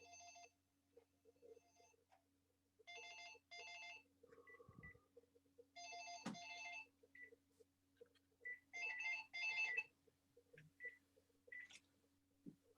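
A telephone rings during a planning committee meeting held remotely, repeated bursts of electronic ringing in separate clusters with short beeps between them, fairly faint against a quiet background.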